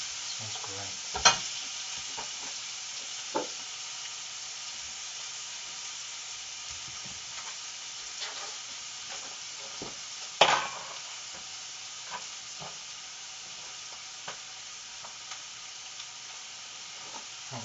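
Bacon for a pizza topping frying in a pan: a continuous close sizzle and hiss with occasional sharp pops and utensil knocks, no voices.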